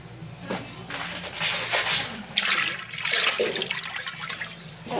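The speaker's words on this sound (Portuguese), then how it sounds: "agora pra mim entrar dentro da água, Dentro do barril" Water sloshing and splashing as a person climbs into a water-filled barrel, broad wet bursts rising and falling over several seconds, fairly close, with no speech.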